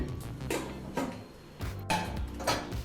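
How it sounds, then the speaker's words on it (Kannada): A pressure cooker lid being fitted and closed over mutton gravy, with a few close metallic clanks and scrapes spaced irregularly. "ಕುಕ್ಕರ್ ಲಿಡ್ಡನ್ನು ಮುಚ್ಚಿ"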